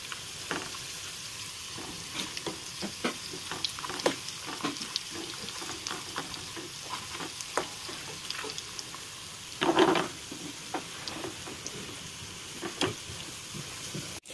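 Pieces of spicy, crispy chicken banki frying in a pan, a steady close crackling sizzle with scattered sharp pops and brief stirring or turning sounds, no talking.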